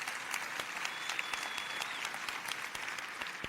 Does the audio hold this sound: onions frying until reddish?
no